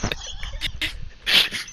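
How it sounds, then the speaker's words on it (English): A dog whimpers and yips in short, high, strained bursts close by, with muffled game sounds and little talk underneath. "That's my dog."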